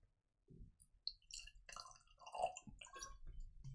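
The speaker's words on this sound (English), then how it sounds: "You pour, but I'm not good with pouring." Springbank 25-year-old 2016 whisky being poured from a bottle into a glass, a short trickle and drip of liquid with faint clinks and nearby handling, fairly quiet with no talk.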